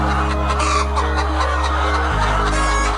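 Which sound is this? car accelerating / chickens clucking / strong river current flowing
chickens clucking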